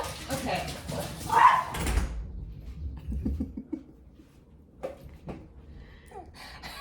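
Dogs barking and yipping as they are let out, a few close barks and whimpers mixed with a person talking, then quieter with scattered small noises.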